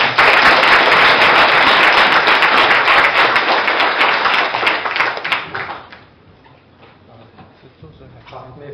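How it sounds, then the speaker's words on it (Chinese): Loud, dense applause from a lecture audience welcoming a professor, sustained for about five seconds before tapering off into quiet room noise. "下面我们以热烈掌声欢迎蓝教授。"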